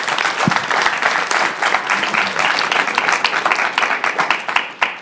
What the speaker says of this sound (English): If we can hold the applause